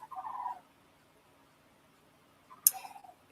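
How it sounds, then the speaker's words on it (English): A flock of geese flies past, calling. Two short, faint honks come from a distance, separated by a couple of seconds of near silence. "I've got a bunch of geese that are flying by"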